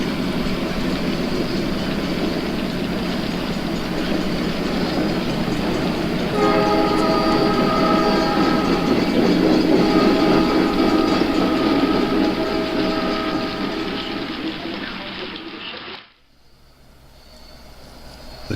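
A simulated coal unit train on a virtual model railroad rumbles past with steady rail noise, a sustained multi-tone horn blast sounding over it partway through, before the sound cuts off abruptly near the end.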